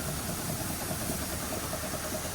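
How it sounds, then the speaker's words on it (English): A tractor engine idles steadily while warming up before offloading wheat at harvest, a continuous mid-pitched rumble with a faint knocking pulse, close and unbroken with no talk. "we're starting out letting the tractor warm up"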